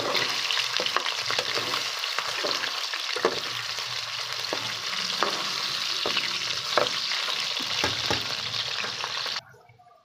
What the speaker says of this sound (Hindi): अब आलू अच्छे तरीके से फ्राई करके प्याज फ्राई करेंगे।